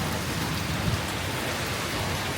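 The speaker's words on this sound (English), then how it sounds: "Yeah, it's raining down there." Steady rain pours down in Kuala Selangor, a dense continuous hiss of drops on surfaces, fairly loud and close, with no voices.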